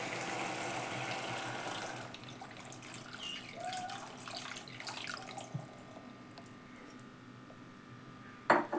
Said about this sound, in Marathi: पाणी टाकते मी आता त्यात.